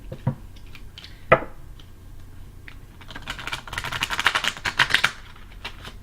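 A big, thick tarot card deck is shuffled, with a couple of isolated taps followed by a rapid flurry of crisp card clicks and riffles that grows busier toward the end.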